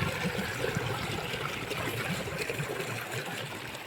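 Water runs through a soaked farm field and its channels, a steady close rushing trickle and gurgle that continues without a break and without voices.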